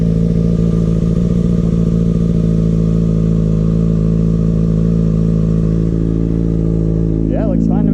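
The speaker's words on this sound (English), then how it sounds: "Rolling burnouts are really fun and cool" A Kawasaki ZX6R sport bike doing a rolling burnout holds a loud, steady engine drone at high revs with a rough, gritty edge. The note climbs and wavers briefly at the very end.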